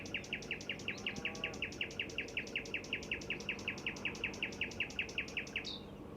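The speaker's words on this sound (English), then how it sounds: "It's late at night and I'm listening to a nightingale." A male nightingale sings at night, delivering a fast, regular run of about thirty sharp, bright repeated notes at a steady rhythm, close and clear over a faint background hum, ending with a brief higher flourish.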